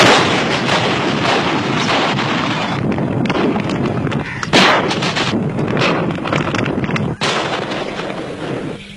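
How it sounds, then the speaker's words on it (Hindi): Artillery gun firing in a battle setting, loud and continuous with repeated booming blasts and dense rumbling over about nine seconds, with no clear single isolated round standing alone. "Delta foxtrot 2538 1 round gun fire."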